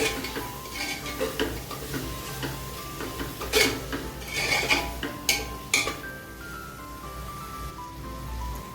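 Spoon stirring homemade garam masala in a pot for spicy shrimp rice, with soft repeated scrapes and metallic clinks against the pot over a low sizzle, fairly quiet and close.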